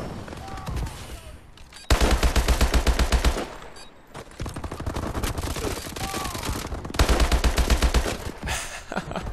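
Bursts of automatic gunfire from the video game Call of Duty: Advanced Warfare rattle in rapid, dense volleys separated by short pauses, loud and close over background game sounds and voices.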